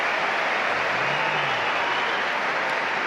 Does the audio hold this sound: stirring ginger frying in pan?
no